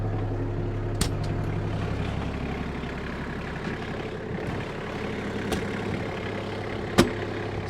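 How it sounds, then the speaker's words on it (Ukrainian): An Iseki Geas 29s mini tractor running a rotary tiller drones steadily with a low rumble and faint rattling, a few sharp clanks breaking through the continuous machine noise. "ввімкнемо фрезу і покажемо, як працює сама ґрунтофреза"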